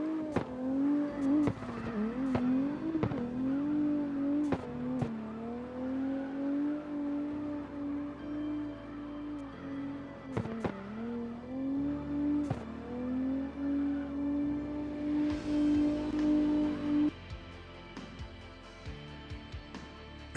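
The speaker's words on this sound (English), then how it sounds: "that car came off the line with so much speed" Race car engine at full throttle during qualifying at St. Petersburg, a loud sustained roar holding steady pitch with brief gear-shift dips, easing off near the end.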